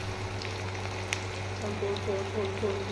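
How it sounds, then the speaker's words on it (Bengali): Chopped onion frying in oil in a wok over high heat gives a steady, soft sizzle throughout, with light clinks and a faint background hum. "প্রথমে কড়াইতে তেল এবং পেঁয়াজ কুচি দিয়ে দিলাম পরিমাণ মতো।"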